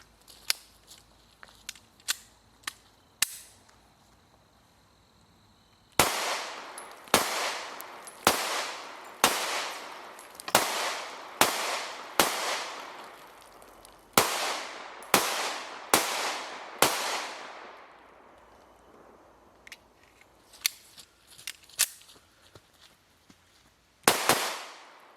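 A Taurus GX4 XL handgun fires MagTech ammunition at steel targets outdoors: a rapid string of about a dozen loud, sharp shots with ringing tails, some lighter pops before and after, and one final loud shot.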